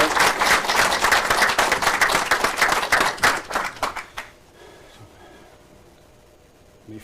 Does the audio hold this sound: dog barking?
no